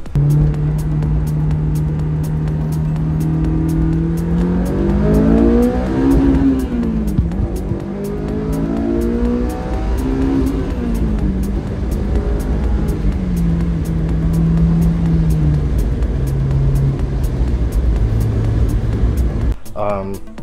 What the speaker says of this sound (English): I'll put a little clip in of doing a quick little 1-2 gear pull.